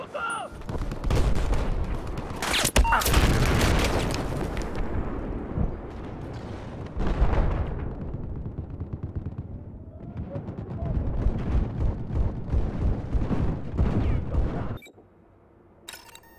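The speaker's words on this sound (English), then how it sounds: "Machine gun." Machine gun fire in Battlefield on the Silk Road map, playing as US forces, rattles in loud, dense bursts mixed with heavy booming blasts, then cuts off near the end; a voice speaks briefly.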